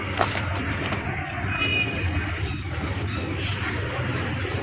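Pigeons, a blue running pair, coo softly at close range amid a busy background hum, with low rolling calls continuing throughout.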